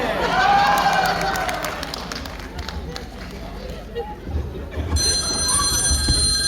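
A telephone rings with a bright, trilling electronic tone near the end, following busy, noisy background sound with voices.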